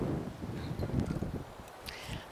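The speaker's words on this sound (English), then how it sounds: "It's gotten pretty windy here" Wind gusting across a lake as a storm brews, a low continuous rumble of buffeting air with rustling texture, fairly loud and steady throughout with no voices.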